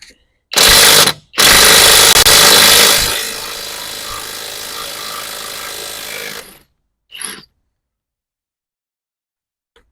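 A Kamolee 520 NM impact wrench works on a car's lug nuts, giving a loud short burst, then a longer rattling run that fades and cuts off, followed by one brief faint blip.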